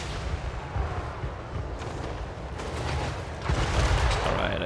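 Artillery fire from dwarf tanks during a Total War Warhammer 3 battle, heard as a dense, continuous rumble of booms and crackling blasts that swells louder in the final second or so.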